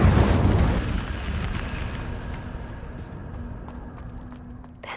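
Incendio fire spell cast in the video game Hogwarts Legacy, opening with a loud whooshing burst of flame that settles into a lingering rumbling roar, fading gradually over several seconds.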